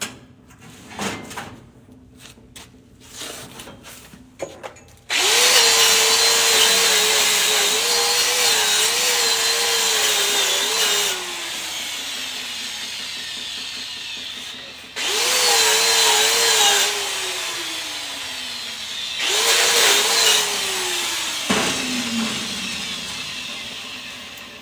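Flux-cored arc welding a root pass on a beveled scrap steel plate, a loud steady crackling buzz in three long runs, each starting abruptly and cutting off, with a quieter stretch of handling noise before the first.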